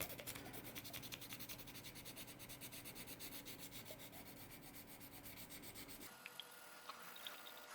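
Sandpaper rubbed back and forth over a small figure before painting, a steady rapid scratchy rasp at close range that stops near the end, leaving light handling ticks.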